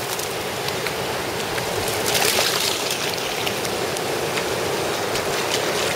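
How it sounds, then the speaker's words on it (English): Surf crashing on a beach in El Salvador, a dense, steady wash of breaking waves close by, with no voices. "Waves are crashing right here pretty good."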